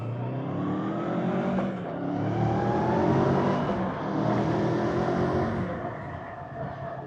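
A Kawasaki Versys 650 motorcycle accelerates hard nearby, its engine rising and falling in pitch as it revs through the gears with a loud, rough mechanical roar.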